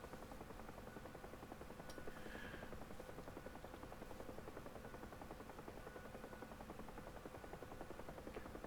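Mi-24 Hind helicopter in the DCS flight simulator, a steady faint rotor and turbine drone with a rapid chopping texture, heard alone and continuous throughout.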